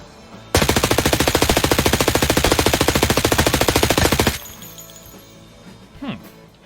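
An SMG firing 7N31 rounds in a shooter video game: a loud, rapid, evenly paced burst of about four seconds, then quieter game ambience with a faint trailing sound.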